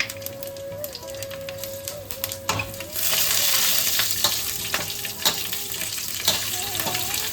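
Dried red chillies, bay leaves, green chillies and panch phoron sizzling in hot mustard oil in a wok, a loud close crackle that flares sharply partway through, with stirring scrapes and a faint tone beneath.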